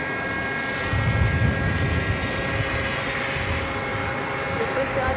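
Delta Air Lines Airbus A330 from Paris touching down on runway 22 left at JFK, a steady loud jet roar with a low rumbling swell near the start, while people talk over it.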